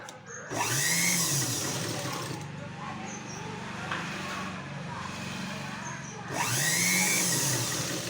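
A sewing machine stitching blouse fabric runs in a continuous close whirring drone with brief slowdowns and restarts, loud and steady throughout, no talk heard.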